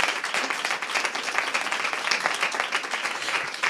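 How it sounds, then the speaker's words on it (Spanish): Audience applause at a Spanish family gathering on school health care, a steady wash of many hands clapping at close range, continuous and even throughout with no pauses. "Un aplauso, ¿no?"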